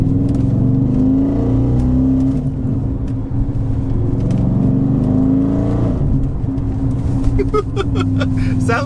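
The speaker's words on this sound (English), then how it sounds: "Sounds like an American muscle car, doesn't it?" An Audi RS4 engine rumbles steadily at idle and low revs, deep and loud, with a few sharp exhaust pops near the end.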